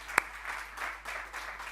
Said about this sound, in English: a great warm round of applause to the panel